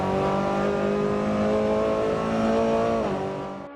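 Race car at the Goodwood Revival Circuit's classic racing event accelerating hard past the finish line, a loud sustained engine note holding steady close by before pitching down and fading away as it passes.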